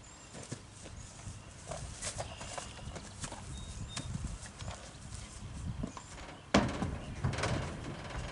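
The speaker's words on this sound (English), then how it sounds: "He loads very easily on the trailer, as you can see here" A paint Tennessee Walking Horse gelding backs out of a trailer, its hooves clopping in irregular thuds on the trailer floor, close by, with a louder knock near the end.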